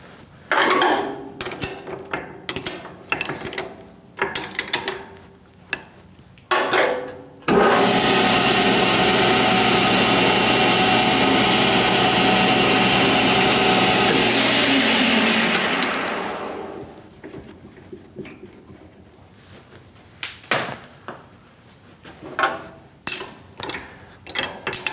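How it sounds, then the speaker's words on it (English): A lathe runs while a spotting drill bores into a metal spacer, a loud continuous grinding whir lasting about eight seconds, framed before and after by sharp clinks and knocks of metal tools being handled. "I always like to start with a spotting drill"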